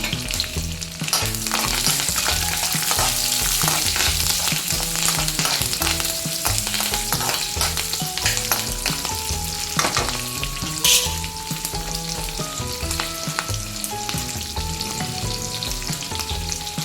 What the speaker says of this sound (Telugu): ఇప్పుడు ఇందులోనే కారానికి సరిపడా పచ్చిమిర్చి అలాగే కరివేపాకు కూడా వేసుకుని వేయించుకుంటున్నాను